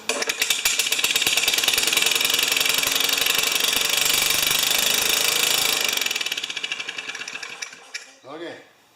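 A Yard Machines lawn mower with a Tecumseh engine and no muffler runs with a harsh, loud, rapid popping roar close by. It cuts out near the end, followed by a few faint sounds.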